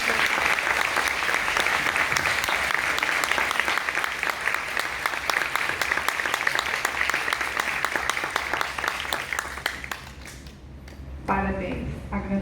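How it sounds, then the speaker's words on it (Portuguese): An audience at a school oratory event applauds the critics, with dense, steady clapping from many hands that fades out toward the end. A voice comes in over the last moments as the applause dies away. "agora eles recebem os aplausos"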